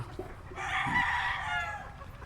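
Gamefowl stags crowing once, a sustained loud crow close by, with a few soft clucks just before it and no talking.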